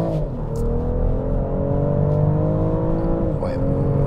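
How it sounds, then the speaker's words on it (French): A BMW X5 50e plug-in hybrid in sport mode accelerating at full throttle, a steady rising engine drone with road and wind noise heard from inside the cabin, with no talking. "Et là, j'accélère à fond."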